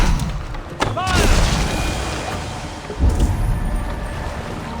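Cannon fire in the video game Assassin's Creed Valhalla: two heavy booming blasts a couple of seconds apart, loud and broad, over a rumbling battle background with voices.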